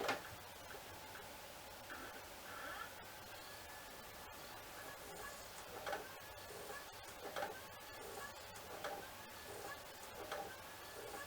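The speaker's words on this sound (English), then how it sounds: "So the drive is really loud." A Sony PlayStation 3 Super Slim disc drive reads a CD, giving a faint steady whir with quiet ticking and soft clicks under low hiss, close but low in level.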